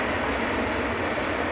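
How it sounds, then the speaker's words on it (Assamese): A train rolls past beneath the Bogibeel bridge in Assam, giving a steady, loud, broadband rumble that holds without a break. "দলঙৰ তলেদি ট্ৰেইন গৈছে।"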